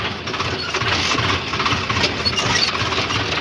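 Swaraj tractor engine running outdoors on a farm, a steady close mechanical chug with a continuous knocking rumble throughout and no talking.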